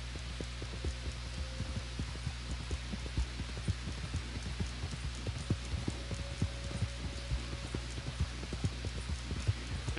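A horse's hooves beat out a rapid, regular gallop in the Western video game Red Dead Redemption, the thuds running steadily over a low continuous hum with no talking.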